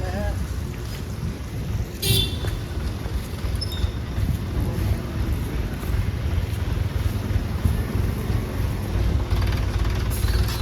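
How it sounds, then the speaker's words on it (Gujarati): A steady low tractor engine rumble dominates, with the tractor passing nearby amid wind and outdoor noise; no clear speech. "આમથી ટ્રેક્ટર આવી આમ"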